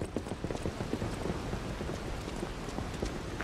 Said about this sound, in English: Back outside in the rain.